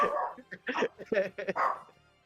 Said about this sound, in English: Joined by a dog this evening.